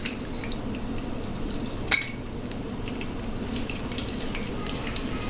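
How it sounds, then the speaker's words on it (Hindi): Ginger and garlic paste frying in melted ghee in a pan, a soft steady sizzle with one brief louder crackle, heard close and quiet with no talking. "ये लहसुन अदरक हमारा फ्राई हो चुका है"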